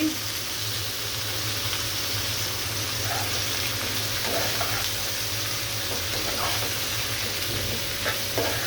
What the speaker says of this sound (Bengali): চিংড়ি মাছ পেঁয়াজ কিছুক্ষণ নেড়ে চেড়ে আমি করলাটা দিয়ে দিচ্ছি